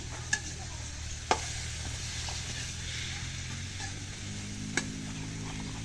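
Food sizzles and is stirred in a pan during slow sautéing, a steady low frying hiss broken by a few sharp utensil clicks against the pan, with no voices.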